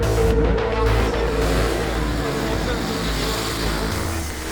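Supermoto motorcycle lapping the Mettet circuit in Belgium during an S1GP race round, its engine a steady loud drone with rushing wind, heard alone without any talk.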